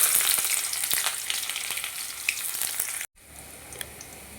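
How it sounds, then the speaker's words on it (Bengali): Sliced onions frying in oil with cardamom, cloves, cinnamon and a dried red chilli for chicken biryani give a steady, close crackling sizzle, then drop to a brief silence and resume more quietly. "এবার দিয়ে দেবো লম্বা করে কুচিয়ে রাখা পেঁয়াজ।"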